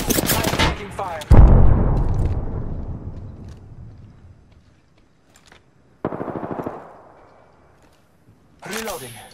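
Gunfire in the Apex Legends battle royale shooter: a sharp loud burst that rings out and slowly decays, then quieter scattered shots, another rapid burst near the end, with a voice faintly underneath.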